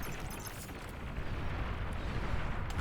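A sustained, dense explosion rumble from an enemy commander unit blowing up in the real-time strategy game Beyond All Reason, on the Flats and Forests map in an 8v8 match. It is loud and broadband, building slightly toward the end.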